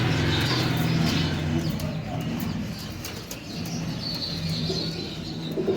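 Domestic pigeons selected from a home loft coo in low, throaty bursts at a Karachi bird market, set against a steady, busy market din with a possible flutter of wings.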